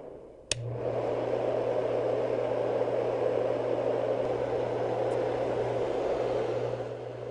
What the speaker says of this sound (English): This soothing sound conditioner produces a consistent, smooth rush of air, or white noise.